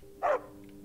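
One short, faint dog bark, a single quick yip from a dog in the Riverwood village in Skyrim, standing alone over a quiet game background.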